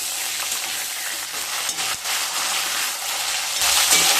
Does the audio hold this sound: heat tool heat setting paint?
no